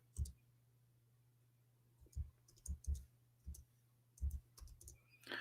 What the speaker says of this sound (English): No, I'm typing in Arabic.